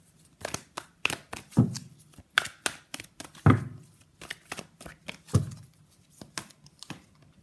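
Tarot cards pulled and slapped down from a deck in a series of sharp, close papery snaps and flicks, irregular in rhythm, with a few heavier thumps among them and no talking.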